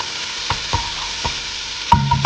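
Garlic frying in a pot for traditional tomato sauce, a steady soft sizzle with several sharp utensil taps and scrapes against the pot, heard alone without voices.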